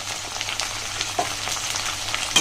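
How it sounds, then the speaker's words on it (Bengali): Chopped onion, tomato and green chillies fry in hot oil for a chicken keema tadka, giving a close, continuous crackling sizzle with no talking. "আগে এটা ভেজে নিই ভালো করে পেঁয়াজ টমেটো আর কাঁচা লঙ্কাটা ভাজা হোক"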